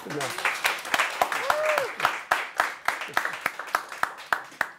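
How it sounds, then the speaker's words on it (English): Audience clapping after a talk, a spread of hand claps with sharp individual slaps rising out of the crowd, interrupted by someone speaking over it near the start. "everybody, big applause to No."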